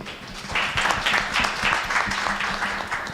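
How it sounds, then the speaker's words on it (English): An audience at an anniversary gala breaks into steady, dense applause, many hands clapping together at a moderate distance, filling the moment without speech. "So a hand of applause to Lillian."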